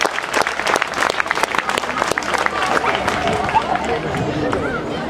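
Spectators at an outdoor air show in Gimont applaud steadily, many hands clapping at once for several seconds, with crowd chatter and a voice speaking underneath.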